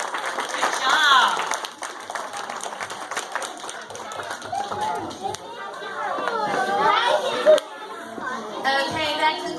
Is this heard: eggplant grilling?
no